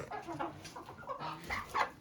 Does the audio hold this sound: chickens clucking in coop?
yes